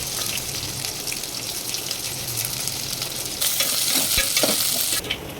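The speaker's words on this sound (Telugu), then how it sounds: "ఆనియన్, హోల్ గరం మసాలా ఇవన్నీ వేసేసుకొని వేయించుకోవాలి" Onion and whole garam masala fry in oil, a steady close sizzle that grows louder and busier midway, with a few scraping stirs and knocks near the end.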